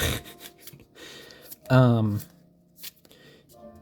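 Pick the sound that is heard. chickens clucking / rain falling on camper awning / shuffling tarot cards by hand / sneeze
shuffling tarot cards by hand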